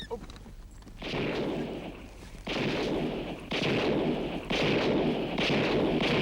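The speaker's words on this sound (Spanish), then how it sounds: "Los alemanes responden con una lluvia de fuego de sus ametralladoras y tiros de cañón" Bursts of heavy machine-gun fire and booming cannon shots from a World War II battle come in repeated waves, loud and rumbling, with brief lulls between volleys.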